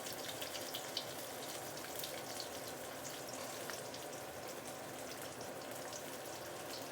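A very thick piece of fish fries in hot oil, giving a continuous soft, dense sizzling hiss with faint crackles, fairly quiet and steady throughout with no talking.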